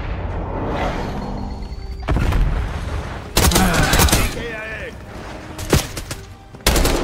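Gunfire in Call of Duty: Black Ops 6 hardcore multiplayer, with several sharp bursts and single shots cracking at irregular intervals over a dense game soundscape, with voices talking throughout.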